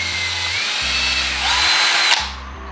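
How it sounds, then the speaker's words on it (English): A power drill whines loudly up close, bearing down into wood for a DIY kayak stand with a rising grinding pitch, then winds down as the bit stops. "We're gonna come down about right here and drill our next one."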